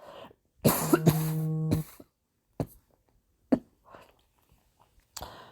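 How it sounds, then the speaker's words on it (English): A close, harsh dry cough with a hum under it, followed by a few quieter throat sounds and short coughs. "Please excuse me for coughing"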